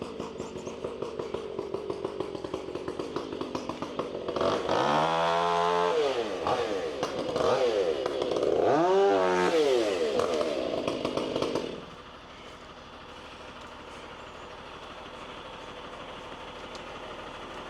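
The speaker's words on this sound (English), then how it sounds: "Well, I hear Brandon's saw running." A Husqvarna 500i chainsaw, tuned hot rather than stock, is heard as a distant idle that revs up twice in long rising and falling whines before dropping back to a rough idle. A voice is faintly present.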